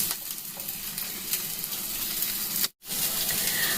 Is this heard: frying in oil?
yes